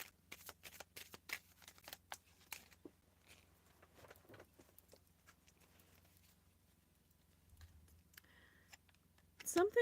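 Tarot cards being shuffled, a flurry of soft crisp riffles and flicks at first, then sparse quiet card handling with a few taps, ending in louder rustling, with a voice heard.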